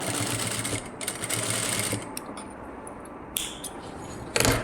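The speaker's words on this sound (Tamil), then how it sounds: "இதை வந்து அப்படியே நம்ம மிஷினில் வச்சு தைக்க ஆரம்பிக்கலாம்." A sewing machine stitches thread piping onto fabric, its needle running in a steady rapid whir close by, pausing briefly and starting again, with no talking.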